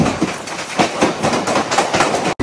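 A local train running out of Sealdah on the line toward Canning, with a steady rumble and rhythmic wheel clatter heard from inside the carriage, loud and continuous, cut off sharply at the end.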